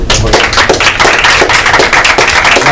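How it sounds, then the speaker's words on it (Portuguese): Audience applause at a seminar: dense, steady clapping from many hands, loud and close, continuing throughout with no speech over it. "gostaria de solicitar um aplauso para eles."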